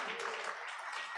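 A church congregation claps hands together during a Sunday worship service in Sri Lanka, a brief, even wash of many hands, moderately distant and without breaks.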